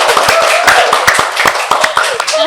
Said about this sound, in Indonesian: Sekali lagi tepuk tangannya dulu dong.